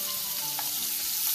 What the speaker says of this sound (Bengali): মাছটাকে আমি ভাজবো এভাবে মিডিয়াম আঁচে